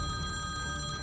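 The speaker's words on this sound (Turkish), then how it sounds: "Aç telefonu general." A telephone rings with a steady, continuous electronic trill, loud and close, with no voices over it.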